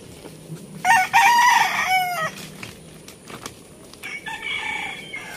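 A rooster crows loudly nearby, followed by softer clucking of chickens against steady outdoor background noise.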